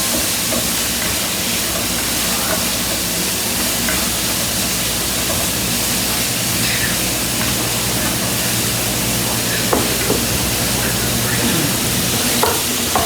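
Chopped garlic stirred in a hot frying pan, a loud, dense, unbroken sizzle up close with occasional faint scrapes of a utensil.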